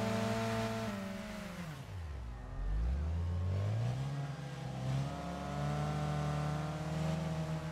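A car engine in the Wreckfest racing game revs hard while driving, dipping sharply in pitch before climbing back up into a loud, sustained drone with layered harmonics.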